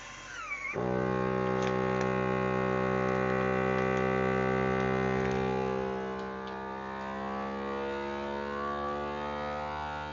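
Food Saver vacuum sealer drawing air out of a bag of Brussels sprouts, a loud steady motor whine with a strong hum that starts abruptly and runs continuously, easing slightly toward the end.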